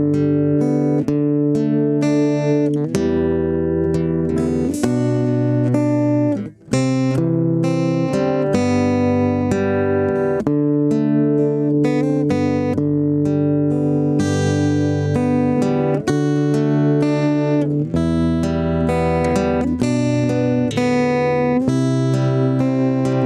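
A guitar plays the interlude of Kim Kwang-seok's song "잊어야 한다는 마음으로" as a simple melody picked out within strummed chords. It rings steadily and closely for the whole passage with one short pause, and no one speaks.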